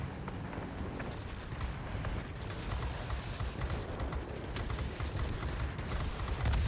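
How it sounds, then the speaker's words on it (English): Big cannon of a Ki-93 heavy fighter aircraft firing in World of Warplanes, a dense, continuous rattling burst of rapid shots over steady engine drone, fairly faint and without talk. "There's that big old cannon making contact."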